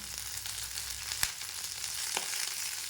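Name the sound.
sautéing red and green chillies with curry leaves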